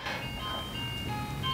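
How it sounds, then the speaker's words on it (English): An ice cream truck passing by outside, its faint jingle tones drifting in steadily over a low hum of background noise. "Why does the ice cream truck always come when I'm recording a video?"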